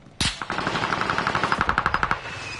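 Rapid automatic gunfire in Call of Duty Warzone Resurgence: a sharp opening shot, then a fast, even burst of about twenty rounds lasting two seconds, loud and close, with no voices.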